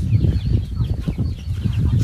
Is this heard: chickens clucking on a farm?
yes